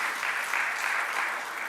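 Audience applause at a town hall on Penn Station through-running, a steady dense wash of clapping filling the whole stretch with no voices over it.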